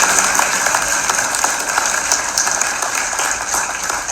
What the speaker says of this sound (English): So just clap it up for TC